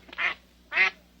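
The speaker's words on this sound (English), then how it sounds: "There's a duck." A duck quacks twice, two nasal, raspy calls spaced about half a second apart, fairly close and clear against a quiet outdoor background.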